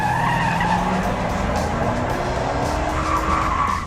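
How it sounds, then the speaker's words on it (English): A cheap, body-on-frame, V8 rear-wheel-drive car does a burnout, tires squealing in a loud, sustained shriek over engine roar, with rising pitched tones as the revs climb. "counts as a burnout"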